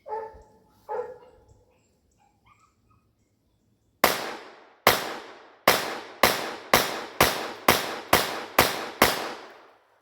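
Ruger LCP II .22LR pocket pistol fitted with MCarbo parts firing ten sharp, loud shots in a quickening string after brief faint sounds, the shots spaced roughly half a second apart.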